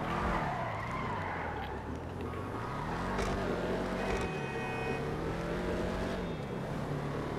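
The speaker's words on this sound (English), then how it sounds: "Name a car in GTA that sounds more beautiful than this." A car in the GTA video game revs its engine and skids, giving a continuous roaring, shifting engine note with tire squeal, loud and close throughout.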